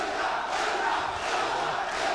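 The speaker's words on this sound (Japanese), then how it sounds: "チャンピオンに送る声援です" Roaring arena crowd at a WBA super featherweight title boxing match, chanting and cheering for the home champion, a continuous loud wall of voices with rising surges.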